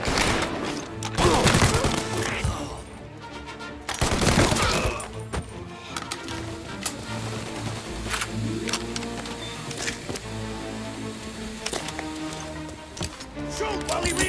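Gunfire in the video game Mafia: Definitive Edition during a shootout, with bursts of shots and loud impacts, mixed with music and effects throughout and heaviest around the first and fourth seconds, with voices shouting.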